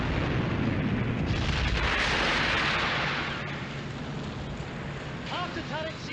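Warship turret guns fire during a naval battle, heavy booming blasts under a dense roar of rumble and noise, with a voice briefly heard near the end.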